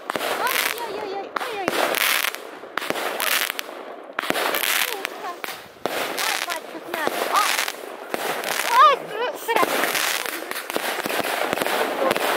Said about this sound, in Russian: Нина Александровна, как салют?